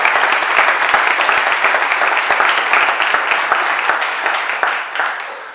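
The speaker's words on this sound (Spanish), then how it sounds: "un increíble aplauso para ellos" Loud, dense applause from a conference audience thanking an addiction-support association, steady sustained clapping throughout that thins slightly at the end.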